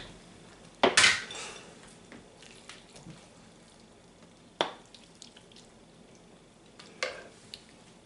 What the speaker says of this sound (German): Es blubbert noch ein bisschen, weil da die Resthitze drin ist.